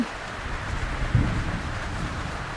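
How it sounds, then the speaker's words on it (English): Storm at sea in the sailing game Sailwind: steady heavy rain with a soft low rumble of thunder rising briefly partway through, continuous and enveloping with no voices. "Thunder? Lightning?"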